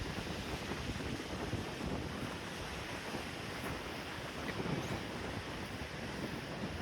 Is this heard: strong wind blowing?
yes